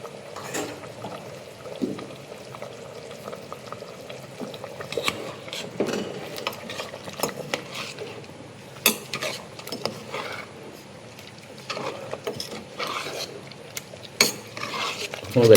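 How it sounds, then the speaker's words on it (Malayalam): Beef curry with black pepper is stirred in a pot, a spoon scraping and clinking against the metal in irregular bursts at close range, with faint sizzling underneath and no talk. "എല്ലാം ഇളക്കി യോജിപ്പിക്കുക."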